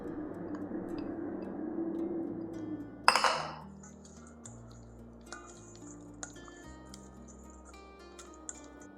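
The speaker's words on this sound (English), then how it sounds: "And now we're adding this dressing." Miso dressing is poured onto an open-faced cherry tomato sandwich: a soft wet rush, then a sharp splat, followed by scattered faint drips and small clinks.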